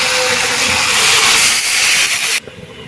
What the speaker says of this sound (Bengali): সব কিছু মশলার সঙ্গে খুব ভালোভাবে কষিয়ে নিয়েছি এবারে জল দিয়ে দিচ্ছি